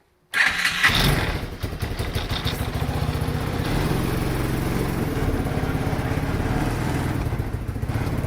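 A cold 2000 Arctic Cat 300 4x4 ATV engine cranks and fires at once, then settles into a steady, loud, close idle rumble that runs uninterrupted to the end.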